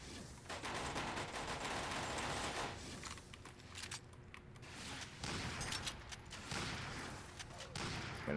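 Rapid automatic gunfire from a light machine gun in the game NecroVisioN, sustained bursts of shots at a moderate level with brief pauses in between.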